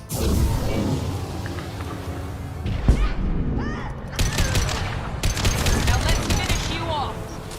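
Rapid bursts of gunfire from a weapon in Mass Effect 2 on Tuchanka, shots clustering in loud volleys with brief pauses, mixed with game effects and chatter-like sounds.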